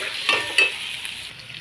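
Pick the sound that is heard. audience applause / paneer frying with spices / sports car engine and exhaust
paneer frying with spices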